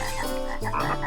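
Frogs croak in a rapid, dense chorus, loud and close, with overlapping throaty calls filling the whole moment.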